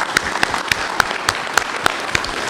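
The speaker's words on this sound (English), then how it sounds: "let's give him a round of applause." Audience applause at a Wildwood neighborhood meeting, a steady patter of clapping with distinct sharp claps standing out at a regular pace, moderately loud and close, with no talking over it.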